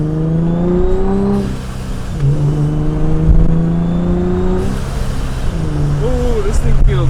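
A procharged Infiniti G35 engine pulls hard under acceleration, a steady loud drone that climbs in pitch through the gears, heard from inside the car with people talking over it.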